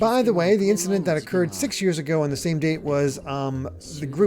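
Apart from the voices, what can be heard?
No distinct noise like a dog, phone or traffic.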